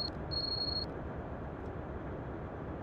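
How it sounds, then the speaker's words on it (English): A train door buzzer in Train Sim World sounds as a steady high electronic tone lasting about half a second, heard over a constant low rumble of the cab. "I didn't do the buzzer."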